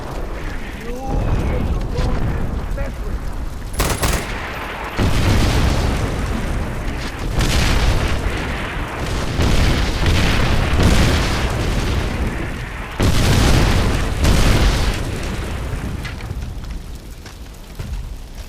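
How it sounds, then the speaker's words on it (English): Artillery shells burst in Far Cry 4, a series of heavy booming explosions rolling one after another with deep rumbling tails, loud and near, with voices speaking over the barrage. "You have artillery rounds incoming. Take cover."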